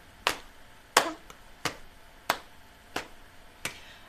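Hands patting and clapping in a slow even rhythm, six crisp, sharp slaps close by with short pauses between them, no voices.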